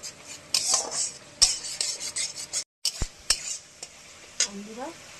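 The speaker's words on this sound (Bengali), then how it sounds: "মশলাটাকে আমি এবার কষাতে থাকবো। ধীরে ধীরে তেল ছেড়ে যাবে" Spice masala for fish curry being stirred and fried in oil, quiet sizzling with repeated sharp scrapes and clicks of a utensil against the pan, briefly pausing before stirring resumes.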